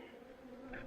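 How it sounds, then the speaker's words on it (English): Honey bees humming at a hive nucleus during autumn, a faint steady buzz of many insects with one wingbeat briefly rising louder near the end. "There's a lot of bee population in this nuke."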